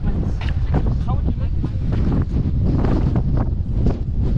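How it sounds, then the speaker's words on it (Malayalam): Strong gusty wind buffets the microphone outdoors in an Irish village, a constant loud roar with sharper gusts throughout. "നല്ല കാറ്റാ. നടക്കുമ്പോൾ നമ്മൾ തന്നെ പാറിപ്പോന്ന് കേട്ടോ"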